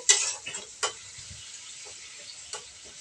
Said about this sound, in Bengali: তারপর আমি আলুগুলো দিয়ে দিব ভাজা আলু ভাজা আলু দেওয়ার পর একটু ভালোভাবে আমি মিশিয়ে নেব